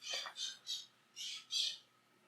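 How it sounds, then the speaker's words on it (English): Five loud, harsh bird squawks in quick succession, each a short burst about a third of a second long, with brief gaps between them and no other sound. "No, the birds are back."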